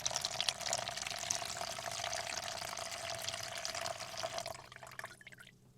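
Water running steadily from a small tap on a portable water container for a micro camper, a continuous close splashing trickle that stops abruptly near the end.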